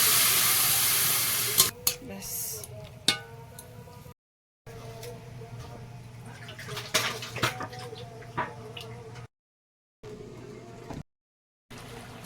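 Leafy greens with stalks and sweet potato are stir-fried in a pan in a Sundarbans village kitchen: steady sizzling with scraping stirring clicks, interrupted by brief silent gaps.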